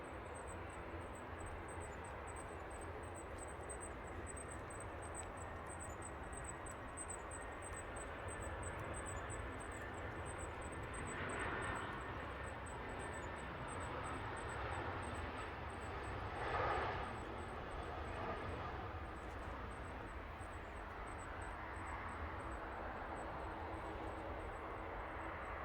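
An easyJet airliner lands at Manchester Airport, a steady, broad jet roar that holds for the whole stretch and swells slightly midway, heard from a distance with no voices.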